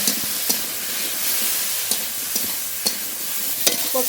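Oil sizzles steadily as taro stolons sauté in a pan, with occasional sharp crackles and scraping stirs over a constant frying hiss.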